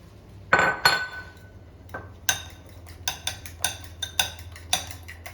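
A fork knocks and clinks against the side of a bowl while egg and sugar are whisked together, giving a string of sharp, close taps that speed into a fairly steady rhythm after a few slower strikes.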